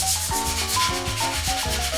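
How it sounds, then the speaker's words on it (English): Dry hand sanding of a 1955 Buick Century inner fender with 320-grit sandpaper: steady, rhythmic rasping strokes that continue without a break, with tonal background music running underneath. "It's very detailed, minute sanding going on here."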